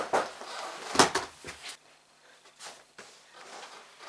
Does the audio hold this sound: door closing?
yes